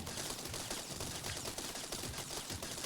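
Rapid, steady gunfire from a vehicle's mounted weapons in TerraTech chatters on continuously, a faint but even stream of shots with no voices over it.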